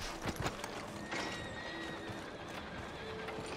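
A horse whinnies in the Red Dead Redemption II video game, a tonal neigh rising out of a dense, steady bed of game ambience, with possible hoof clip-clop near the start.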